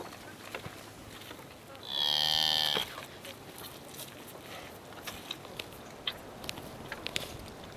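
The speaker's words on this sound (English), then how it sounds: "Can you bring the cows over here?" A cow on a nomadic herding family's farm lets out a single loud, drawn-out moo lasting about a second, standing out from quiet outdoor background with faint shuffling and small knocks before and after.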